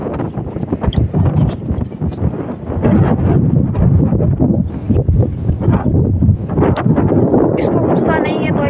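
Strong wind of a dust storm outdoors while watering goats in a village: heavy, gusting buffeting roar on the microphone, loud and close, with people talking over it throughout.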